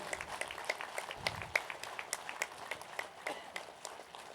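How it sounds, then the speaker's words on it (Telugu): An audience at a Pyramid Sevadal ten-year celebration gathering claps for several seconds, a fairly faint and uneven patter of many hands heard from a distance. "ఒకసారి గట్టిగా క్లాప్స్ కొట్టుకుందాం"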